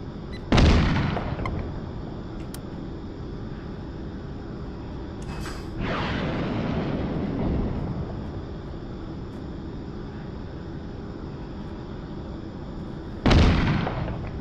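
Maverick missile strikes in the combat flight game Nuclear Option: three loud, close explosions, each a sharp blast trailing into a rumbling decay, spread apart with a steady engine drone between them and no speech.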